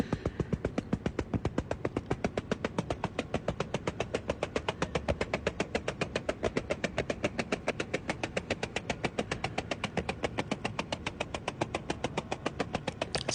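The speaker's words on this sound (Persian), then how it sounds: "می‌بینین همچنان موتور سالمه و داره کار میکنه" A Toyota car engine held at a sustained high-rev cutoff, a rapid, steady bouncing buzz pulsing evenly and loudly without a break, the underside glowing from heat.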